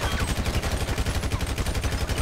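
Rapid sustained gunfire from GTA 5 roleplay, a dense continuous burst of automatic shots, loud and close with no pauses.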